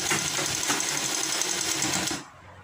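A sewing machine runs steadily while stitching a kurti collar, a rapid, even mechanical whir with regular needle beats, close and alone, stopping abruptly near the end.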